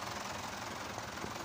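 A Mitsubishi Fuso Canter truck engine running steadily at idle after an air cleaner install, a low, faint, even rumble with a slight knocking texture.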